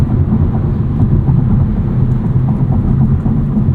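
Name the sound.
tire noise in a Kia Forte GT on the highway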